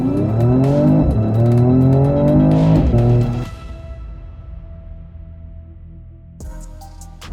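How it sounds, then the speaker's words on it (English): Mercedes-AMG E53 Coupe engine revving hard at full throttle, a loud close rising roar with gear-change dips for about three seconds before fading into a lower drone and quieting, then a brief burst at the end. "Every time I want to get serious, I just also want to pin the throttle."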